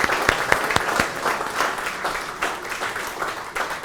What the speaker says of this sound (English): If we could all just give him a round of applause.